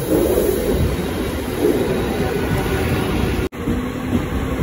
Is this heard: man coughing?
no